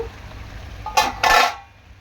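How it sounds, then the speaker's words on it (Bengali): A metal lid is lifted off a cooking pot of fish head simmering with young pumpkin, giving two quick, bright metallic clanks close by before quiet returns. "তো এখন ঢাকনাটা একটু খুলে নেব।"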